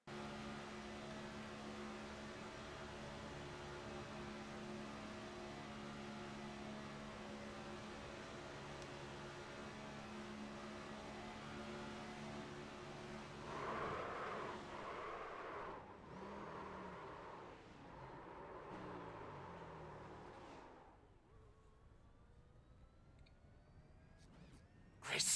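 Onboard race car engine at Talladega Superspeedway, a steady loud drone with strong harmonic whine for most of the run, then a shift to rougher bursts and fading output near the end, no voices.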